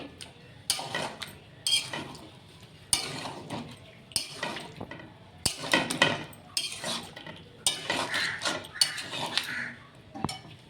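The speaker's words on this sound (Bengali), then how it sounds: "এবার নামানোর আগে গরম মশলা গুঁড়ো দিয়ে মিশিয়ে দিয়ে" A metal spoon scrapes and clinks against a pot as ground garam masala is stirred into a yogurt chicken curry, with repeated irregular strokes, close and fairly quiet, and no talking.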